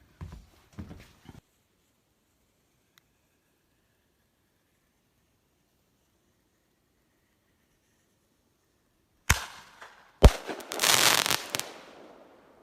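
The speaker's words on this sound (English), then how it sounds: "Second cue going up is the 25 shot, 500 gram firework." A few faint pops, then a long quiet stretch before a sharp bang and a fast, loud volley from a 25-shot, 500-gram firework cake crackling in the open.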